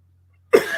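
A single sharp cough bursts out close to the mic after silence, followed by a brief rough trailing breath.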